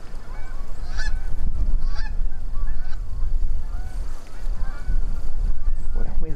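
Several geese honking repeatedly, loud and close, calls overlapping against a rumbling, windy background.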